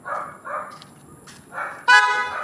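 A single loud motorcycle horn blast with a bright, buzzy tone sounds near the end, from a snail horn on a Suzuki V-Strom 650, after a few soft engine-like bursts and quieter rumbling.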